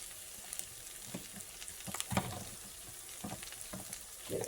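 Corn on the cob frying in butter in a pan, a soft steady sizzle with occasional brief crackles and stirring bursts, fairly quiet and close, with no talking.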